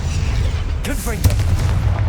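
A Confringo fire-blast spell in the game Hogwarts Legacy, one deep booming explosion with a crackling burst over a steady low rumble, close and loud, a voice calling out at the same moment.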